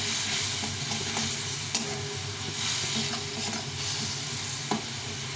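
Garlic and ginger paste frying and being stirred in a pan make a steady, close sizzle with occasional scraping strokes throughout, with no voices.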